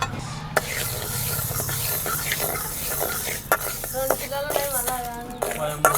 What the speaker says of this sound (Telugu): మెంతులు కూడా వేయించుకోవాలి.